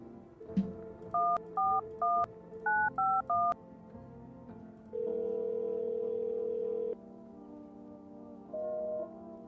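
Phone keypad tones dial a neighbor in a video game: seven short paired beeps in quick rhythm, then a long ringback tone and a shorter one, clean and close.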